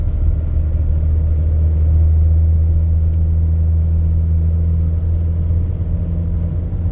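A taxi engine hums as the car drives toward Isfahan, a steady, loud low rumble from inside the cabin that holds even throughout.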